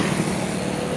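A motorbike speeds along a roadside, its engine a loud, close, continuous roar filling the brief moment.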